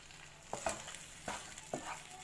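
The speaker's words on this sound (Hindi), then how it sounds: "इस स्टेज पे हम इसमें कॉर्नफ्लावर का जो बैटर था वो डाल देंगे और उसको कुक करेंगे." Cornflour batter sizzles in a pan with sautéed vegetables for crispy chilli fries, a steady close frying hiss broken by a few soft stirring scrapes and knocks, with no talking.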